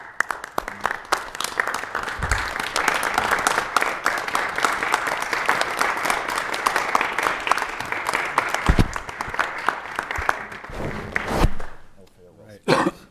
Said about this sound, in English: we just would like to stand and give him a round of applause